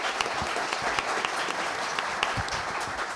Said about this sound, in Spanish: Así que, Nico, te damos la bienvenida con un fuerte aplauso